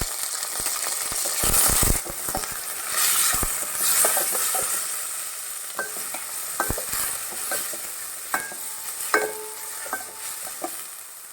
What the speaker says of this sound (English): Now at this point you need to add tomato.